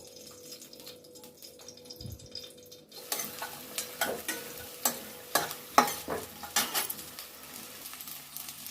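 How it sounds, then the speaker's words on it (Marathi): Edible gum is roasted in four spoonfuls of ghee for diabetic methi ladoo. A soft, continuous sizzle builds after a few seconds, with repeated stirring scrapes and light utensil clinks against the pan. "त्यासाठी मी चार चमचे तूप टाकलं आणि डिंक हे तुपातच भाजायचं"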